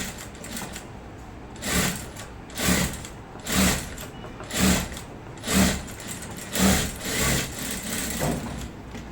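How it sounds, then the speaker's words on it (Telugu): A sewing machine stitches along the edge of salwar pants, running in a steady whirring hum with regular rhythmic surges, close and alone without talk. "ఎడ్జ్లో అంటే కరెక్ట్గా ఒక చిన్న పాదం దీంట్లో ఎడ్జ్లో కుట్టండి."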